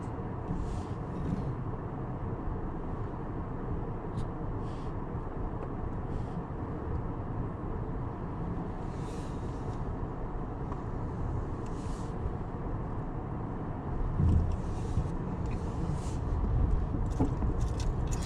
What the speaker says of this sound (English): let's go for a ride in the Maverick